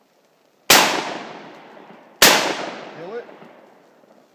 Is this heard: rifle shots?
yes